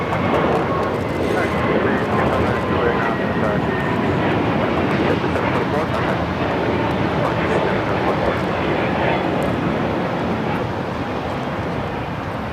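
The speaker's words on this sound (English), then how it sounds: "724 taking off to JFK on the A321neo." A JetBlue Airbus A321neo jet takes off at LAX, its engines making a loud, steady broadband roar that holds for the full length without a break.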